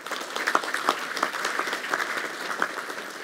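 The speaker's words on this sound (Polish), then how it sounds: "Wielkie brawa." Audience applauding at an academic year inauguration ceremony at a university, a steady mass of clapping with sharp individual claps standing out, moderately loud and sustained throughout.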